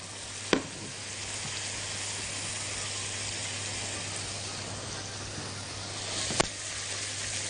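Chopped onions sizzle steadily in a small frying pan as they are stirred, a constant close hiss broken by two brief utensil knocks against the pan.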